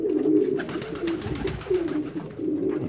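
A homing pigeon coos repeatedly at close range, its low, rolling calls steady and clear, with a faint murmur of talk in the background.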